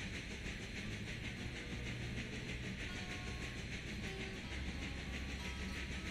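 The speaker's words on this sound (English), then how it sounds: "All the chuff sounds are synced to the driver rotation. So what you're hearing is fairly accurate." Steam locomotive in a train simulator game, a steady rhythmic chuffing synced to the driving wheels over a constant rolling rumble, with faint whistle-like tones drifting in and no talk.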